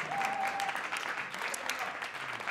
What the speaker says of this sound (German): Deswegen einen dicken Applaus